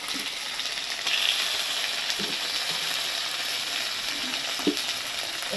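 Onions and two medium tomatoes sizzle together in a pan for an egg and mushroom curry, with a steady broadband frying hiss and a few soft spatula scrapes and taps, close and with no talking.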